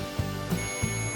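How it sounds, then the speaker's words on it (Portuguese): Repeated short electronic beeps from a multimeter's continuity test across a shorted capacitor in an Electrolux microwave, four quick tones over a steady background whine. "Bipando dessa forma, o capacitor está em curto."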